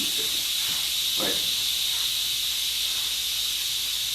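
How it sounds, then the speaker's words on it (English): An air compressor in a shop with an antique lathe hisses steadily and loudly as it bleeds down, a constant broadband rush of escaping air with no pauses. "Sounds like your air compressor."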